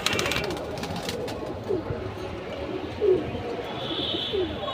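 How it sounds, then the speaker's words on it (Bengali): Silver pankhi pigeons give a few soft, low coos spaced about a second apart, quiet against a steady hiss of rain in the background. "তো চলুন নতুন আরেক জোড়া কবুতর দেখব"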